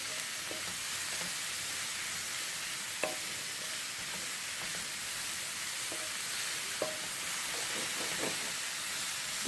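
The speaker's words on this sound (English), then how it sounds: "And give that a nice stir, cook that round." Chickpeas with spinach and raisins stirred in a pan, a steady soft sizzle and hiss running throughout with occasional light scrapes of the spoon, close and alone without talk.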